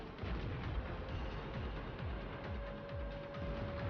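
A tank gun fires in a video game, a run of heavy, rumbling booms repeating in quick succession over a dense, continuous roar with no voices.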